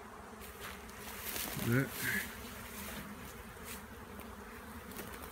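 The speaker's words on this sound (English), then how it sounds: "I see a swarm flying around" A honey bee swarm buzzes steadily throughout, a dense droning hum with a brief louder pass near the middle, as someone says a word.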